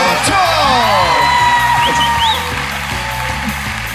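A TV-show studio audience cheers, whoops and yells loudly for Goncho, a dense, close crowd roar over a thumping rhythmic music beat that eases slightly toward the end.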